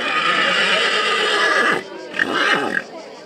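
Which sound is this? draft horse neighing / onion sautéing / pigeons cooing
draft horse neighing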